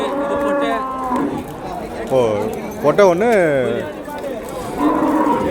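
Cattle moo repeatedly at the crowded Vaniyambadi cattle market, several long bellowing calls one after another, close and loud, mixed with people talking nearby.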